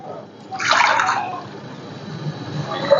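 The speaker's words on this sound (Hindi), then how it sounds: "पानी ऐड कर देंगे कि पानी हमारा जो है दाल हमारी बॉईल होती रहे।" Water pours into a cooking pot of husked masoor lentils in a kitchen, a short close splashing gush that fades to faint trickling and drips, with a voice speaking quietly underneath.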